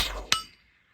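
A single bullet strikes a steel target 75 yards downrange. It gives one bright metallic clink that rings briefly and fades within half a second, heard alone.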